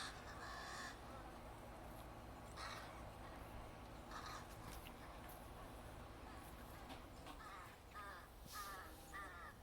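Crows caw repeatedly in a noisy outdoor scene, several birds calling in clustered bursts at mid distance over a steady low rumble, as if squabbling.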